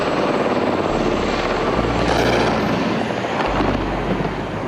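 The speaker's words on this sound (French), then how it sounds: "Les hélicoptères français effectuent une trentaine de passages." Military helicopters pass close overhead in Abidjan, Ivory Coast: a loud, continuous rotor thrum with deep engine rumble, steady throughout.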